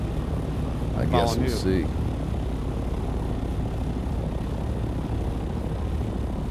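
An aircraft drones steadily in the video game Dune: Awakening, with a brief rising whine early on, while someone speaks briefly over the engine noise.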